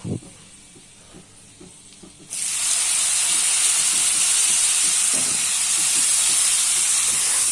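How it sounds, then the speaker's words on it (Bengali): Spices with boiled banana blossom added to a hot pan, a sudden loud steady sizzle bursting in after quieter stirring and clinks, frying continuously up close with no voices. "মশলাটা ভালো করে ভেজে নিয়ে এরপর সেদ্ধ করা মোচাটা তুলে দেবো।"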